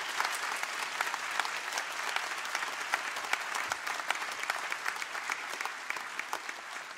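A graduation ceremony audience at Ulster University's Magee campus applauds the graduates' families, a dense, steady wash of many hands clapping from a large hall with no voices over it.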